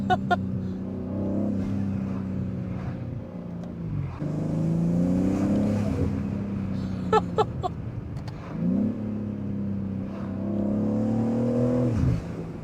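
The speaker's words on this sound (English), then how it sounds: "This is so loud, the blow-off valve." A BMW M3 Touring tuned by Manhart to the 650 hp MH3 650 spec revs hard through several gear pulls, its blow-off valve hissing loudly between shifts, heard from inside the car with no talking.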